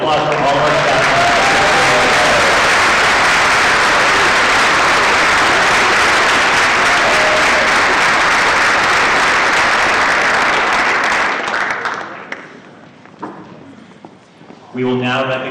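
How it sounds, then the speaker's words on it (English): Loud, sustained applause from a large audience at a district staff recognition ceremony, a dense wash of clapping that runs steadily for about eleven seconds before thinning out, after which a voice begins speaking. "can we please have a round of applause for all of our staff?"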